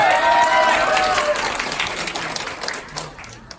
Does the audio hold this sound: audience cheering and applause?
yes